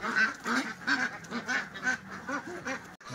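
Peking laying ducks quack in their pen, a close, repeated run of nasal calls in a rough rhythm about every third of a second, with several birds overlapping.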